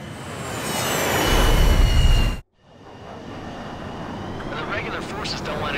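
Fighter jets in the video game Ace Combat 7 roar in a dense, loud wash of engine noise that cuts out abruptly, then a second jet rumble builds back up under game radio chatter.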